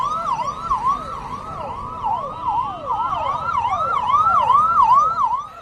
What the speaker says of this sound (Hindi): केजरीवाल को जेल ले जाती पुलिसिया गाड़ी के हूटर की आवाज